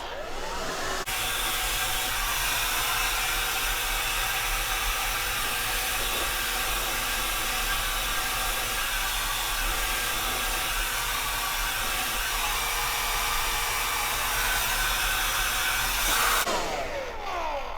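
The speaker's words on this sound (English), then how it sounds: "hugging it close to my scalp so I can blow dry that and give myself some lift right there" A hair dryer blows steadily for a long stretch while a brush lifts fine hair at the roots, giving a loud, even, close whoosh with a clear start and stop.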